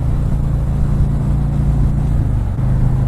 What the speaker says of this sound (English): This bike will be awesome inside a tunnel, because this V-twin sounds delicious